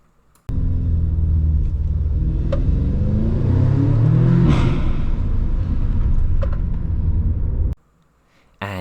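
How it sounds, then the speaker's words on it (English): Audi S3 with its original exhaust accelerates through a tunnel, a loud, reverberant engine roar that swells in pitch and then cuts off abruptly into near silence. "here's the sound with the original exhaust inside the tunnel."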